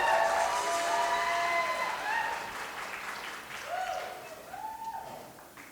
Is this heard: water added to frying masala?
no